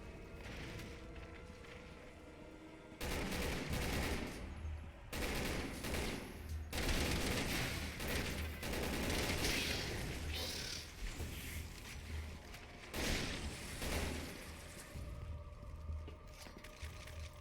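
Rapid shotgun and gunfire blasts in the video game Resident Evil 6, dense repeated shots over continuous game noise, loud and sustained after a quieter opening.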